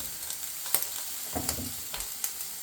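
Bacon frying in a pan gives a soft, quiet sizzle with scattered crackles and small pops, plus a low scrape or stir midway, no voices.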